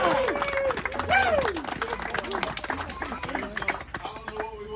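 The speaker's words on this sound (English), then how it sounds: "a big round of applause" A crowd of listeners at a church fellowship gathering claps in a sustained round of applause for a bus driver, dense and steady over the whole stretch, with voices calling and chattering through it.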